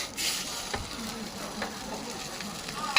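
Mushrooms fry in a wok for Chinese street fried rice at a local street food stall: a soft, steady sizzle with light scraping stirs, fairly faint and close.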